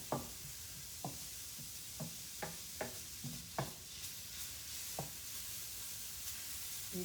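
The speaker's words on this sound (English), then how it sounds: "You should hear a good sizzle." Soft, steady sizzling of sticky rice with soy sauce in a stir-fry pan, with occasional light knocks and scrapes of a utensil stirring.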